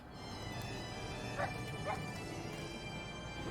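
A dog in the video game Final Fantasy XIV gives two brief, faint yips over a steady, murky game background.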